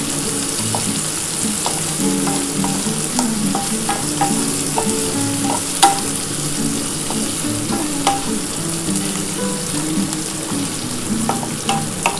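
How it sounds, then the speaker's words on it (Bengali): Chopped onion and garlic sizzle steadily in hot oil in a pan before green amaranth leaves go in, with a spoon scraping and stirring in frequent light clicks, loud and close, with no talking. "দেখো, আমার পেঁয়াজটা কিন্তু ভাজা হয়ে গেছে, রসুনটা তো ভাজা হয়েই গেছে"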